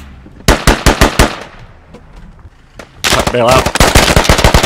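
Rapid bursts of automatic gunfire from a Squad firefight, two loud volleys of close shots separated by a quieter lull, with a voice calling out briefly between them.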